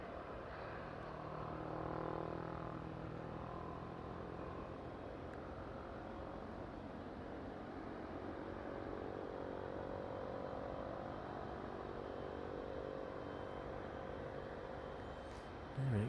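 A taxiing aircraft leaving runway 27 at East Midlands Airport in the evening, a steady, fairly distant engine whine and rumble holding at an even level throughout with no talk.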